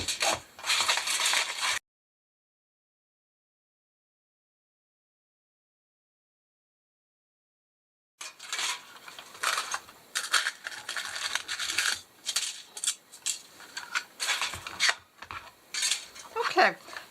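A paper punch cutting aluminum foil several times, with a short burst of crinkly metallic clicking and rustling, then a long silence, then repeated sharp crisp snips and foil crackles, close and fairly quiet.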